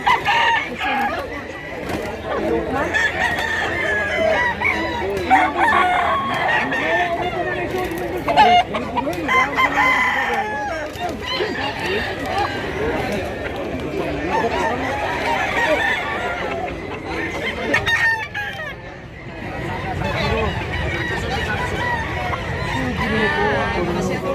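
Chickens and roosters at a livestock market in Mantalongon, Barili, Cebu, with a rooster crowing repeatedly and birds clucking nearby over steady crowd babble; someone talks throughout.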